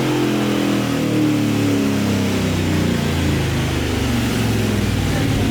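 A supercharged Chevy LS3 engine in a C10 stepside pickup holds a loud, sustained high-rpm roar during a dyno pull, with a steady droning tone throughout.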